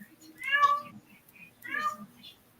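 A house cat meows twice indoors, two clear, drawn-out calls about a second apart, close and fairly loud, with faint room noise between them.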